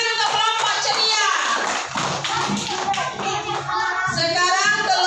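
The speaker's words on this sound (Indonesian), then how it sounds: "kita kasih tepuk tangan untuk kelompok ceria." Children clap together in a classroom, a dense burst of hand claps running steadily for about five seconds, fairly loud and close, with young voices mixed in.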